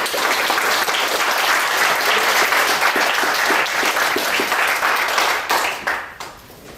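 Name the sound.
audience applause for speaker Lyndon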